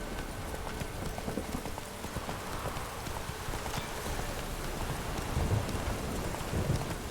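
Roach, the horse in The Witcher 3 video game, trots with a steady clip-clop of hooves. Rain and low thunderous rumbles from the game world sit under it, and no one speaks.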